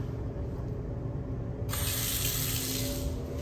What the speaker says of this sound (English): Sink.